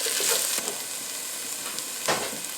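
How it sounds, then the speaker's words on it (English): Mixed vegetables with tomato paste cooking in a pan for a meatball sauce, a steady close sizzle and hiss with a couple of brief scraping stirs. "Mix it with the rest of the veg. Let that cook for about another minute."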